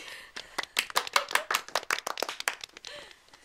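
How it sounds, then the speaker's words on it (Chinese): An audience at a village stage show claps hands in a quick, steady burst of about twenty sharp claps, close and loud, tapering off at the end. "鼓掌啊！"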